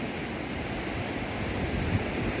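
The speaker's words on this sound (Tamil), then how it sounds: "ஸோ நம்ம இந்த கடல் அலையை அப்படி அப்படியே கொஞ்சம் சின்ன சின்ன கிளிப்ஸ் எடுத்துகிட்டு கிளம்பிடுவோம்." Sea waves break steadily on the shore by Alamparai Fort on the East Coast Road near Chennai, a continuous loud wash of surf with wind rumbling across the microphone and no voices.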